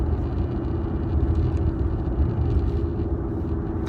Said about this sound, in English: This is my test run for doing a video while driving to work.